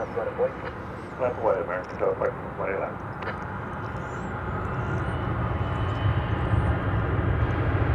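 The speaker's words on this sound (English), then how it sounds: "Well, there's a plane." Boeing 737-800 airliner at DFW Airport, a broad jet engine roar that builds and stays loud, with a person talking over the start of it.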